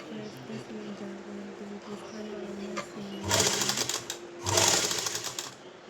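Two short sewing machine bursts stitch a seam along a back neckline, each lasting about a second, with someone speaking softly in Punjabi beneath and between them.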